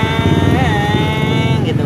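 Suzuki Satria FU motorcycle engine running close up at steady revs, a continuous buzzing drone with a brief pitch rise partway through, wind noise on the microphone.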